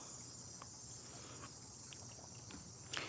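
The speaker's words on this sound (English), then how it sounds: "Isn't that cool sound? What are they called?" Faint, steady insect chirring fills the background, a continuous high buzzing drone with a few soft taps and clicks, distant and quiet.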